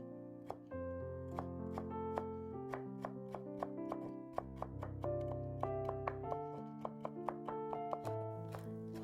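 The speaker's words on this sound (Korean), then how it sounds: "당근은 채 썰은 다음 다지듯이 썰어주세요." A knife finely chops julienned carrot on a cutting board, with quick, fairly regular taps running throughout, set against steady background music.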